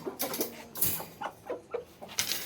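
A fighting rooster clucks close by in short, quiet bursts, a handful of clipped calls spaced irregularly with brief pauses between them.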